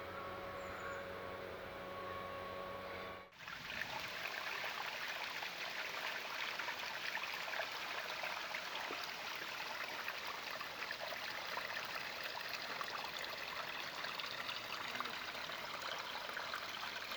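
Natural spring water trickles and splashes steadily over rocks in Kokubunji, Tokyo, a continuous close gurgle after a brief break early on.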